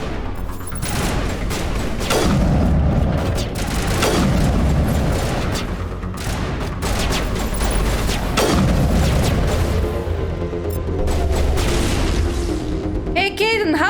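Gunfire in a Mass Effect firefight against geth, repeated booming shots and bursts over a constant roar of battle noise, loud and sustained throughout.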